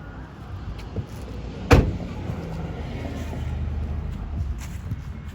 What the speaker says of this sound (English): I'm gonna turn my car off, open the car up, door up, take my seatbelt off, I'm gonna pop the hood.